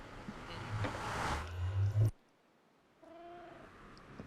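A Minecraft cat gives a short purring meow, close and soft, after a burst of louder rustling game noise, then a brief quiet gap.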